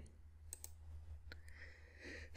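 A computer mouse clicks rapidly, sharp dry taps in small bursts of two and then single clicks, close and clear over a quiet low hum.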